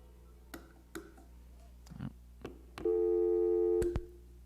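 Phone line with scattered ticks and clicks, then a steady electronic busy-signal tone sounds for about a second after the caller hangs up, ending in a couple of sharp clicks.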